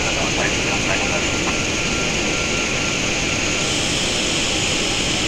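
Boeing 737-800 jet landing in the X-Plane 10 flight simulator, a loud steady roar of engines and rushing wind filling the whole moment, with faint cockpit sounds underneath.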